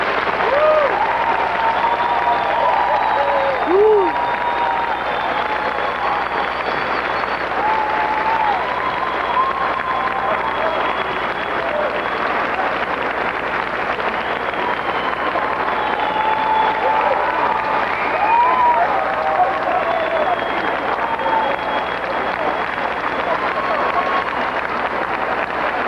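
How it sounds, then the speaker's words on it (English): Applause for new doctoral recipients at a degree ceremony: a long, even wash of crowd clapping that holds steady throughout, with voices murmuring and faint tonal sounds drifting over it. "Let us applaud."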